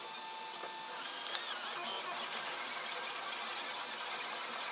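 A 3D printer partway through a print hums and whirs quietly and steadily, its fan noise constant, with a few faint clicks and a short squeak from the moving head. The nozzle is leaking. Nobody speaks.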